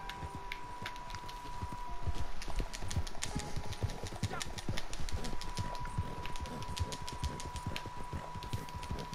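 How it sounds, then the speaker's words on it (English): Horse hooves clip-clopping in the video game Red Dead Redemption 2, a steady run of quick hoof clicks over a constant engine-like drone, with faint voices underneath. "That's a lovely horse."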